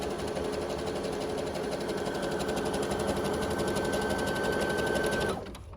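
Brother Pacesetter PS500 sewing machine stitching at speed, a steady fast mechanical whir with a fine rapid rhythm, close and loud, running continuously for about five seconds before stopping abruptly.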